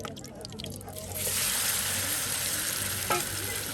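Spiced chicken meat mixed with masala sizzles in hot oil at a riverside cooking spot, the frying swelling loud after a moment of stirring and continuing steadily, with a brief clink partway through.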